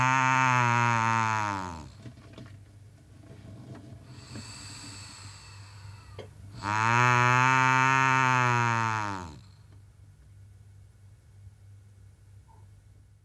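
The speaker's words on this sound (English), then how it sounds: "Please listen to the glottal sound produced during exhalation after inhalation." A rubber membrane in an artificial larynx of a lung model vibrates on exhalation, giving two loud buzzing, reedy tones separated by softer breathy airflow, with a faint hiss between.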